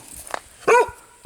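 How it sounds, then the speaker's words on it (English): Nearby, a dog lets out two short, loud barks about half a second apart after a faint yip, with no talking. "They got the last few barks in there."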